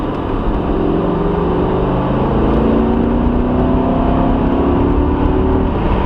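A supercar, a Ferrari F430 or Lamborghini Gallardo, back on the power around a track, its engine a loud, dense roar climbing steadily in pitch under hard acceleration, heard from inside the cabin without talk.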